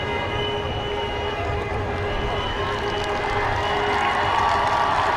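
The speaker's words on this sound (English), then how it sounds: "The crowd showing their appreciation for them, and what an atmosphere it is." A stadium crowd at the 2003 All-Ireland Minor Football Final replay between Laois and Dublin claps and cheers in a steady, swelling roar, with a commentator talking over it.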